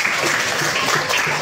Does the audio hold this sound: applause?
yes